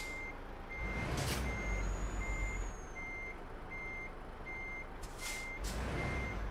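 Steady reversing beeps repeat at an even pace over a low, rumbling truck engine in the video game Euro Truck Simulator 2, with a couple of loud air bursts.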